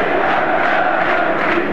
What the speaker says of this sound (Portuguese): E a torcida do Palmeiras canta bonito